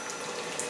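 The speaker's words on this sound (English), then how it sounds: "Hot, steaming water." Keurig Mini single-cup coffee maker dispensing hot, steaming water: a brief, continuous close-up stream of pouring and gurgling liquid, steady and loud with no voices.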